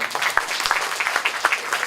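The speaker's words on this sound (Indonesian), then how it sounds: "tepuk tangan buat Pak Niko" Brief applause at a Christmas and New Year celebration as a guest is acknowledged, scattered claps from a small gathering with distinct individual hand hits, moderately loud and close.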